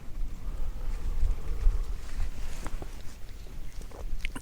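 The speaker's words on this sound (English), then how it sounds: "That wind, the wind chill is absolutely brutal" Gusts of strong wind buffet the microphone on an exposed Lake District fell near Kirkstone Pass, a low, rumbling, fluctuating roar that stays steady and fairly quiet with no voices.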